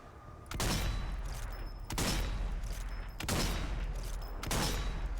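Gunfire in the zombie shooter game Zombie Army 4: Dead War, with four loud, evenly spaced shot bursts, each leaving a short ringing tail, over a steady low rumble.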